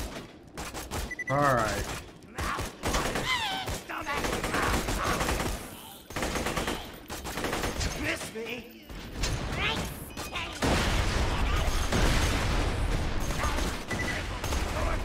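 Bursts of combat rifle fire in Borderlands 2 crack out in rapid, loud volleys, clustered in short rattling strings with brief gaps and some enemy fire, while someone speaks briefly over the shooting.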